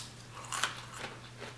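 Close, quiet crunching of crispy bacon being bitten, a few sharp crackly bursts over a low steady hum.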